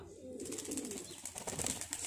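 Pigeons in a loft coo softly and rustle, with faint bird sounds over a steady room hum, one bird a red-eyed pigeon among a flock of large birds.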